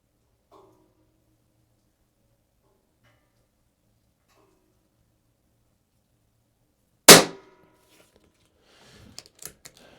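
A single sharp shot from a Pinty Buster 9-pellet .177 air gun bursts loud out of near silence, followed by a few faint clicks and handling taps.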